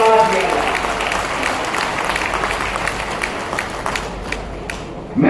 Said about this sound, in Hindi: तालियों की गड़गड़ाहट से उनको धन्यवाद दिया